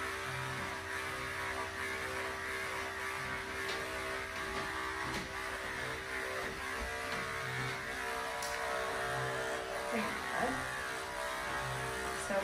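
Electric clippers buzz steadily as they shave down a dog's coat during grooming, a low continuous hum with a faint mains-like drone, close by and without speech.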